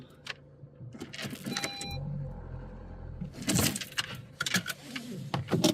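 A car's wheels spin in loose desert sand at Wadi Rum, Jordan: a brief low engine rev followed by scattered gritty bursts of churning sand, fairly faint and close by.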